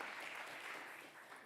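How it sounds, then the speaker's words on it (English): A conference audience gives a round of applause, heard as a faint, distant, steady wash of clapping that fades slightly over about a second and a half. "it's worth a round of applause"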